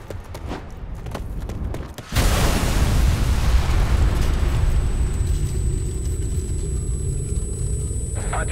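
A bomb detonates in Ghost Recon Future Soldier: a sudden heavy boom breaks through the background, then a loud, dense rumbling roar that stays strong and steady for several seconds.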